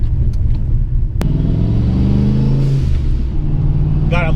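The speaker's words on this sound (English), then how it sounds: "Probably one of the best things about a turbo kit is hearing the constant spooling of the turbo and then the blow-off valve" A Fox Body Mustang fitted with an On3 turbo kit pulls hard under boost, its loud, steady engine rumble building as the car accelerates, with a sharp burst of turbo whistle and a brief high hiss near the end.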